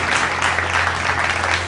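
A studio audience breaks into steady, loud applause to welcome guest senior journalists on a Hindi news discussion show, dense clapping sustained throughout with no speech over it.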